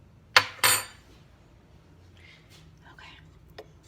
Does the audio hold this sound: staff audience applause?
no